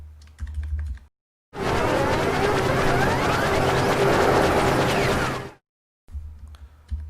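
A computer keyboard clatters in a dense, continuous burst of rapid key presses over a few seconds, bracketed by brief silences and a few fainter taps, with no voices.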